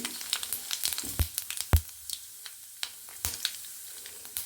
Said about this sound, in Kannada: ಈಗ ಸಾಸಿವೆ ಮತ್ತು ಜೀರಿಗೆನ ಒಗ್ಗರಣೆಗೆ ಹಾಕ್ಕೊಳ್ತೀನಿ